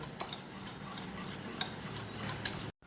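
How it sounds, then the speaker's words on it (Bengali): Spices being stirred into beaten egg in a bowl for a steamed egg curry, with repeated light scraping and clinking of a utensil against the bowl and a few sharper taps, close and steady, without talk. "খুব ভালোভাবে ডিমের সাথে এটাকে সব মশলা দিয়ে ভালো করে মিশিয়ে নিতে হবে"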